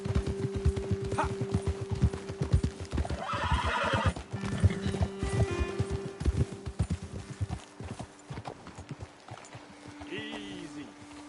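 Horses' hooves clip-clop steadily while a horse whinnies and snorts in the video game Red Dead Redemption 2, with low droning tones and some speech mixed in.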